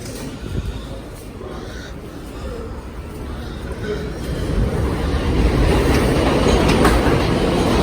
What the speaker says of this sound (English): There's the 5 train.